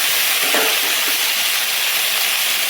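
Pumpkin leaves tossed into garlic and green chilli frying in oil, making a loud, steady hiss of sizzling with a brief surge early on as the greens hit the pan, and no speech.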